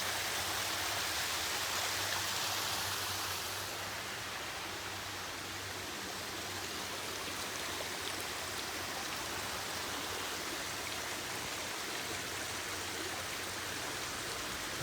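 A small mini waterfall on the Baden Powell Trail pours in a steady, broadband rush of splashing water, close and continuous throughout with no voices.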